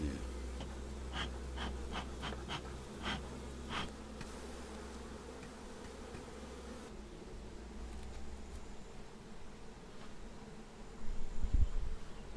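Bees buzz steadily around village hives being calmed with smoke, a dense insect drone with occasional closer passes and faint ticking, outdoors in a rural Artvin setting.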